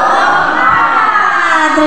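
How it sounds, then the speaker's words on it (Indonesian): Indonesian audience at a school teacher gathering doing a group 'tepuk semangat' clapping cheer, a loud, dense burst of crowd voices and clapping that fills the whole moment. "Gimana kalau kita tepuk semangat dulu Bapak Ibu?"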